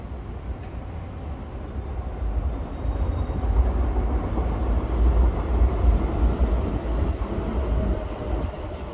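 A Docklands Light Railway train passes along the Regent's Canal in East London, its rumbling wheels and motor swelling in the middle and staying loud and continuous throughout, with no talking.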